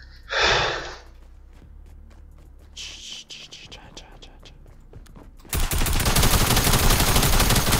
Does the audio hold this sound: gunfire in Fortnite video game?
yes